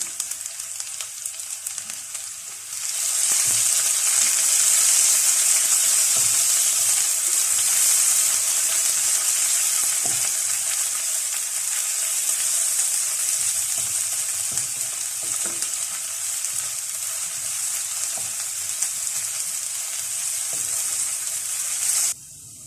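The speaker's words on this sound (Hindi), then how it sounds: "लहसुन, अदरक और हरी मिर्चें भी हमारी हल्की सी फ्राई हो चुकी हैं।" Paste of garlic, ginger and green chili frying in a pan on a low flame, a loud continuous sizzle that starts after a quiet moment and runs steadily with faint scraping stirs, no speech.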